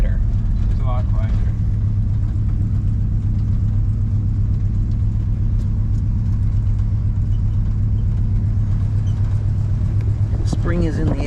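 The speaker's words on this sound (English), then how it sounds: "Let's see what we get with mufflers. It already sounds better." A Chevrolet C10 truck engine fitted with a new air cleaner and mufflers idles in a steady, low, even rumble, close and continuous, while someone talks over it.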